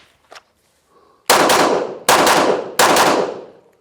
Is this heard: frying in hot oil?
no